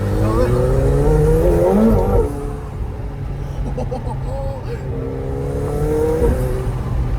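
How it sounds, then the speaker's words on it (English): Cabin sound inside a McLaren 720S on a night drive: a loud twin-turbo engine note with rising and falling revs, a quieter spell where turbo whistle and whoosh come through, then the engine building again, with a passenger talking over it. "Damn, those turbos are crazy. You can hear from the inside so well."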